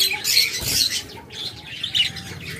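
Large Japanese-type lovebirds and cockatiels in cages chirp and tweet repeatedly, with bright, overlapping calls that sound close by and fairly loud.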